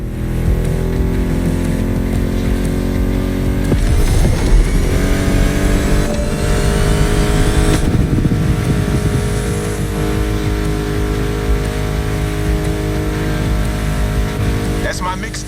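Car engines racing in The Crew Motorfest, loud droning and revving with pitch sweeps as gears shift, steady and close throughout, with game dialogue and music blended in.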